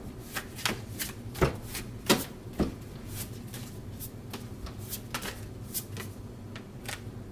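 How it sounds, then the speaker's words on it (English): Tarot cards riffled and slapped down in a reading, a run of quick crisp flicks and soft thuds at close range, scattered irregularly with no talking. "let me actually pull another card for you guys"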